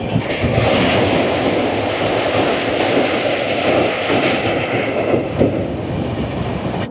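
The 22897 Kandari Express from Howrah to Digha runs on rails at night, a loud continuous rumble with rhythmic wheel clatter and faint squeals, heard from inside the moving train without voices.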